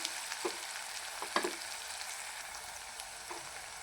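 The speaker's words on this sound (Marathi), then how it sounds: "हा मसाला पण चांगला फ्राय करून घ्यायचा आहे." Masala frying in a pan for a spicy soybean dish gives a steady, close sizzle with occasional sharper pops and crackles, heard alone without talk.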